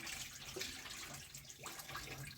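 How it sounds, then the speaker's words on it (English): Running water splashing as African traditional vegetable greens are washed by hand, a steady close wash of liquid with faint drips and sloshes throughout. "That is why I recommend you to wash your own greens."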